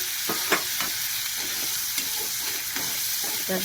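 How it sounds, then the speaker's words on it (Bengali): Prawns with turmeric, salt and chilli fry in a pan with a steady sizzle, intermittent stirring scrapes and light pops repeating every half second or so, close by. "ভালো করে ভাজা হোক।"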